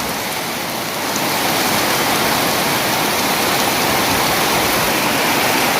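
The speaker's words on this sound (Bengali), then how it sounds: "অনেক বৃষ্টি হচ্ছে। অনেক বৃষ্টি বৃষ্টি এবং বাতাস" Heavy rain with wind pours down in a dense, roaring wash of noise, growing slightly louder after the first second, steady and close.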